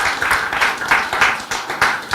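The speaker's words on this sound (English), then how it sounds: "Let's clap for her" An audience at a Missing Children Ghana event marking the 16 Days of Activism Against gender-based violence claps steadily in a dense, continuous round of applause, fairly loud and close.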